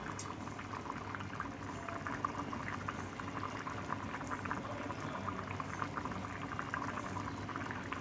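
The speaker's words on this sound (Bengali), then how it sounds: "মাংসটা ধীরে জাল দিয়ে তাহলে সুন্দরভাবে সিদ্ধ হয়ে যাবে" Meat curry simmering slowly on low heat, with egg cooked alongside, bubbles steadily in a pot, a close, continuous boiling burble with no pauses throughout.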